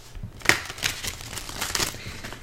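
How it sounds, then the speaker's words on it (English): Tarot cards being shuffled by hand, a quick series of close, crisp riffling and slapping bursts with short pauses between them. "I'm going to shuffle again."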